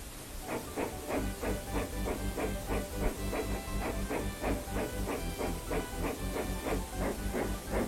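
Steam engine chuffing away at a steady rhythmic pace, repeated hissing bursts of steam with a clattering beat underneath, moderately loud and continuous.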